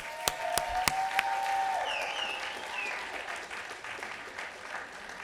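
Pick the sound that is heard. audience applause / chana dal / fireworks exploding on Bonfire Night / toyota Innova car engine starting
audience applause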